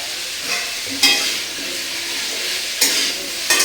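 Aloo posto, potato in poppy seed paste, sizzles steadily in a pan while a spoon stirs it, with a few sharper scraping bursts cutting in near and loud.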